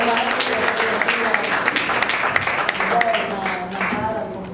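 Audience applause at an Italian national conference session on the legalization of prostitution, steady dense clapping from a large crowd throughout, loud and close, with speech mixed in underneath.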